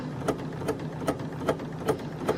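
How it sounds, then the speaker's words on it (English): Sewing machine stitches steadily along a continuous lap on a garment sleeve, giving a regular mechanical clatter with a repeating tick roughly every 0.4 seconds, close and fairly quiet, with no talking. "make sure that you sew over that small dot that we marked and sewed to earlier"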